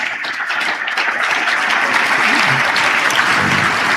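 A church congregation applauds loudly and steadily for an interpreter, dense clapping sustained throughout with some voices mixed in.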